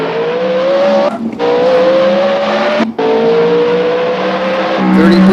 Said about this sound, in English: We're going to try for a little decent hot lap.